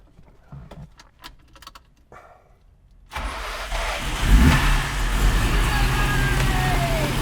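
A custom car engine turns over after a few seconds of faint clicks and handling noises, fires loudly, then revs and settles into a strong, close idle.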